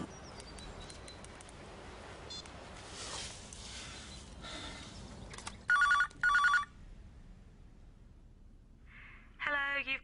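A telephone rings in two short bursts, loud and close against quiet room tone, then a third ring starts before an answering machine picks up; faint murmuring sits underneath.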